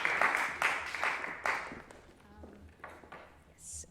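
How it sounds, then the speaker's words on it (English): A small audience claps at a music conservatory concert after a duo performance, a few bursts of applause that soon thin out and fade, fairly quiet and close, with scattered taps and movement noises trailing after. "We can have a round of applause"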